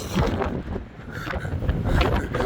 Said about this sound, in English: I think I'll title this one, Listen to the Wind and Noise of Blackpool.